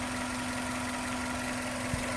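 The DOHC 16-valve engine of a used Hyundai Avante runs at a steady idle with a continuous, even drone and low hum close by, with no talk.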